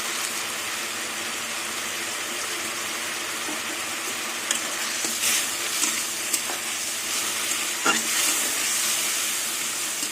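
Tomatoes with turmeric and chilli powder stir-fried in oil with a little water, a steady soft sizzle and hiss with occasional stirring scrapes, moderately quiet and close.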